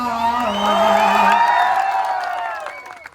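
An audience at an Imran Pratapgarhi event breaks into clapping with cheers and whoops, swelling quickly to a loud peak and then tapering off toward the end.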